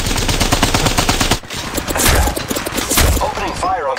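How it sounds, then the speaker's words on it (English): Rapid bursts of automatic gunfire in the battle royale video game Apex Legends, loud and dense, with a brief pause before another sustained volley and faint game voice lines mixed in. "Opening fire on contact."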